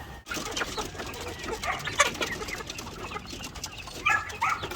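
Barred Rock chickens cluck and call continuously in a busy farmyard, several birds overlapping with sharp squawks at moments, no talking.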